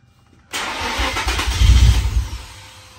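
An NM35 Stag car engine fires for the first time after a rebuild, catching abruptly from near silence, then running loud and rough with a swelling rev before easing back toward idle.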